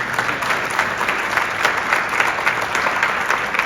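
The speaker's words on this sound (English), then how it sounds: "Give yourselves a round of applause for that." Steady applause from a large audience at a charity walk kickoff event fills the space, dense and continuous throughout with no voices standing out.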